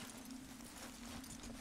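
Horse hooves clip-clop faintly in Red Dead Redemption 2, a quiet rhythmic plodding under a steady low hum, with no voices.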